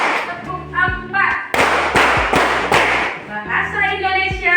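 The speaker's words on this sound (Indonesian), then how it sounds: "Tepuk 1, tepuk 2, tepuk 3, tepuk 4." A classroom group claps in a chanted counting rhythm, sharp bursts of hand claps alternating with sung voices of children and teacher, loud and close.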